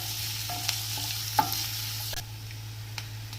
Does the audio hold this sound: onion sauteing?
yes